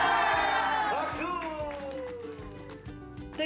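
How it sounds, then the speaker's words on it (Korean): Seniors at a singing class clap and cheer for the instructor, the crowd noise sitting under music and gliding tones before scattered claps continue toward the end. "박수."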